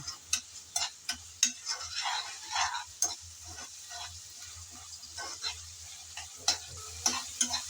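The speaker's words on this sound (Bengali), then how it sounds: "আমি তো পেঁয়াজ রসুনের সাথে একসাথেই ভেজে নিচ্ছি" Shrimp fry together with onion and garlic in hot oil for a Bengali bottle gourd dish, a crackling sizzle punctuated by repeated sharp spatula clacks against the pan, with no speech.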